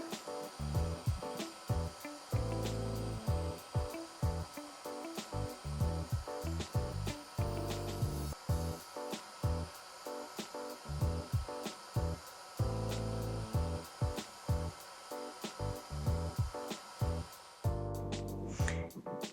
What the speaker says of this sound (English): I'm just going to use a brush and a hairdryer.